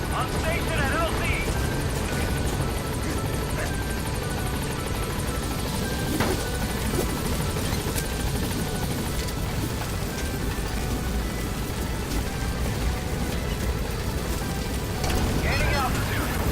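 Pequod, a helicopter in the video game Metal Gear Solid V: The Phantom Pain, approaching a landing zone with a loud, constant rotor and engine roar throughout, and a radio-style voice talking over it.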